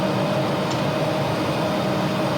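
An Embraer E190 auxiliary power unit in the X-Plane flight simulator shutting down, heard as a steady, even mechanical hum with a fixed whine that holds constant throughout, with no talk.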